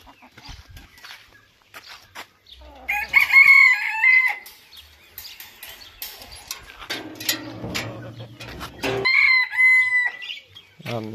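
Hens cluck and squawk close by while a rooster crows loudly, repeated bursts of birdcalls in a busy chicken coop with some rustling.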